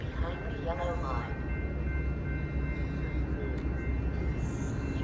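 A Metra train led by a pair of UP locomotives arrives at Elmhurst station, giving a steady low rumble with rattling rail noise that carries through the whole moment. A station voice and people talk over it throughout.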